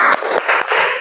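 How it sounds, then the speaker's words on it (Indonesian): A classroom of students claps a quick rhythmic spirit cheer, several sharp, loud group claps in fast succession over about a second. "Tepuk semangat."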